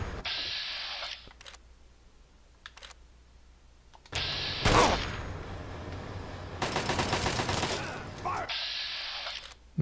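Gunfire in Fallout 3 comes in bursts, with rapid volleys of shots and a loud blast, broken by quieter gaps and light clicking.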